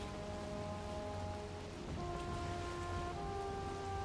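Steady rain falls during a thunderstorm in the game Valheim, a dense, constant patter with no breaks and no voices.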